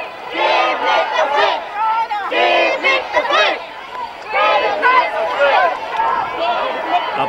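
A crowd at a protest rally in a park shouts in loud, continuous massed voices that rise and fall in waves, with a short lull in the middle.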